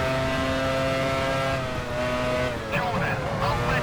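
A Formula One race car engine in the F1 Challenge 99-02 racing video game whines loudly at high revs with shifting pitch, rising and falling as the car accelerates.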